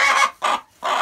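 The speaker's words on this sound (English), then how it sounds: "Is that a rooster?" Clucking calls from a rooster in a backyard chicken coop at midnight, three short loud bursts with brief gaps, close to the microphone and without talk.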